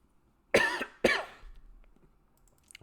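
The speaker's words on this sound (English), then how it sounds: "I'm coughing up now." Two sharp coughs in quick succession, close and fairly loud, followed by quiet room noise.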